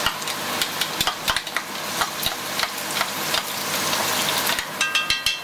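Onion and garlic mixture frying in olive oil in a Dutch oven over medium heat, a steady crackling sizzle with scattered sharper pops and utensil clicks, close and fairly loud, with no talking.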